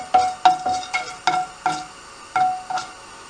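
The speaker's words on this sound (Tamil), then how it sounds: "இது ஒரு கொஞ்சம் துவரம் பருப்பு. இது கொஞ்ச நேரம் பொரியட்டும்." Urad dal and toor dal fry in a pan for beetroot varai, with a run of sharp, close scraping and clinking stirs against the pan, roughly one every half second, over a soft sizzle, with no talk.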